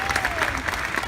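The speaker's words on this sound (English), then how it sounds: "You can applaud for that, that's okay." Convention panel audience applauding, a dense, steady burst of clapping from a crowd filling the whole moment, with faint voices mixed in.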